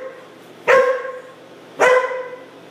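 Two loud, sharp barks from a nearby dog, spaced about a second apart, each fading quickly into quiet indoor background.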